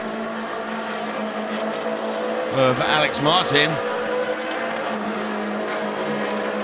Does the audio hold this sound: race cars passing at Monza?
yes